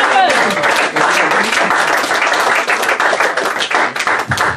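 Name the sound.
congregation applauding and cheering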